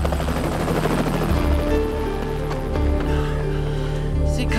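Helicopter flying close by in a desert setting, a loud continuous rotor drone with rhythmic blade chop that holds steady for the whole stretch, with no talking.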